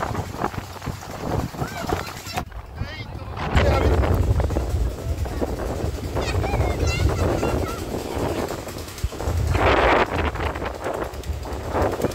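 Strong storm wind buffets and roars around a mango tree, with heavy gusty rumbling that swells and eases while people talk over it.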